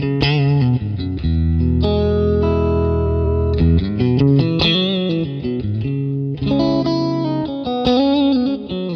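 Electric guitar through a captured Fender Deluxe Reverb amp on a Quad Cortex, voiced thick and mid-heavy, playing loud sustained chords and melodic phrases with short gaps, alone and up close.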